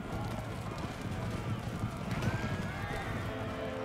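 Light Horse cavalry gallop in the Empire Total War battle game, a dense rolling clatter of many hooves under distant battle noise, with a faint whinny partway through and soft talk over the top.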